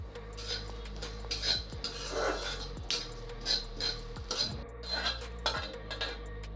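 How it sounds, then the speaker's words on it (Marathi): Flax seeds dry-roasting in a kadhai for methi ladoo, heard as a steady low rumble with repeated metal scraping and clinks of a spoon against the pan, close and moderately loud throughout. "नंतर कढईमध्ये दोन टीस्पून जवस भाजून घ्या व त्याच प्लेटमध्ये काढा"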